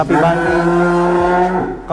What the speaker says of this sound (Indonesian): Ini sapi Kupang.